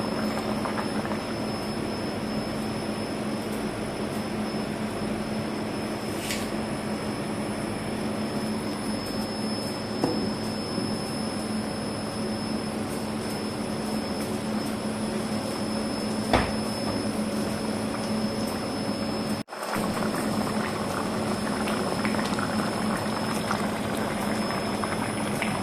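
Sri Lankan fish curry boiling in a pot, a steady close bubbling and simmering hiss that runs unbroken throughout with no voices.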